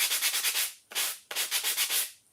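Hand sanding a craft surface, a steady run of short rasping strokes in rhythmic bursts, close and fairly loud, with brief pauses between sets of strokes.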